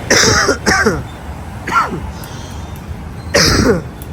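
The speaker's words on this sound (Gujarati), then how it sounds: "હા ઉધરસ થઈ ગઈ." A few harsh, close coughs come in short bursts, two together at the start, then single coughs after pauses.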